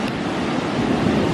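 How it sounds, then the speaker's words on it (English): Ocean waves roll onto a beach at sunset in a steady, loud wash of surf that fills the scene, with wind buffeting the microphone. "That sun is starting to set as another set of waves rolls through"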